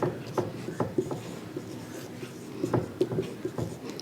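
Chalk or marker scratching across a classroom board in short strokes and taps, close and clear, with no talk over it.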